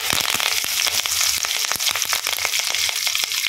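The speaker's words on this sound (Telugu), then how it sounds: "ఆవాలు వేస్తున్నాను నేను." Mustard seeds splutter in hot oil for tomato chutney, with dense crackling and quick sharp pops bursting close up over a continuous frying hiss.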